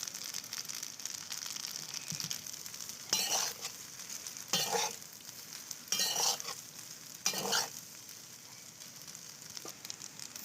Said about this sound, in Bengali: পাস্তাটাকে ভালো করে ভেজে দেব।